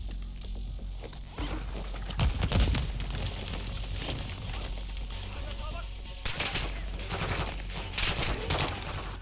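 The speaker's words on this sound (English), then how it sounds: "You can, of course, shoot the mines." Call of Duty Modern Warfare 2 gameplay with bursts of gunfire crackling over a dense game soundscape, louder volleys early and again toward the end, with someone talking over it.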